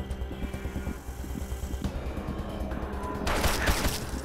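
Dense gunfire from combat in the Wasteland 2 game, a steady rattling fusillade of rapid shots with mechanical clatter, swelling to a louder, harsher burst near the end during a friendly-fire moment.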